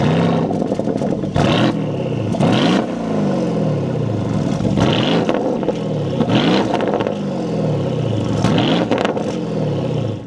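A 2025 Porsche Cayenne S with a 468 hp V8: loud, close engine sound with repeated surging revs and sweeping pitch rises and falls, steady roar between the bursts and no talking.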